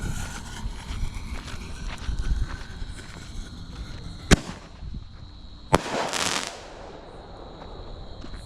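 Consumer fireworks from a recent purchase being test-fired outdoors, with two sharp bangs standing out over a steady rumble and a crackling hiss of burning effects after the second.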